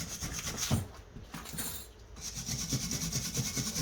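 A brush scrubs stainless steel brake hardware on a 2002 Kia Optima LX during a pad and rotor job, giving rhythmic close rubbing strokes with a short pause midway.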